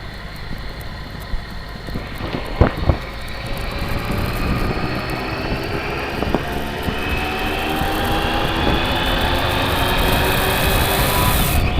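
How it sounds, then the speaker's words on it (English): A motorcycle on Pirelli Scorpion Rally STR tyres riding along a road, a steady engine drone with rising wind and tyre roar, a couple of sharp knocks early on, no talk. "So here we are out on the bike with the Pirelli Scorpions on"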